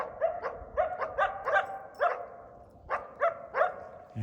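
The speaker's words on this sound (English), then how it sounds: "He's got a very distinctive white tip tail and a distinctive bark." A dog with a white-tipped tail barks in a quick series of about a dozen sharp, loud barks, some in doubled bursts, heard close and clear with no talking over them.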